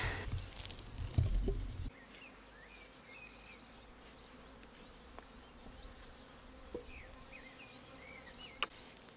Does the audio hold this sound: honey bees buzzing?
yes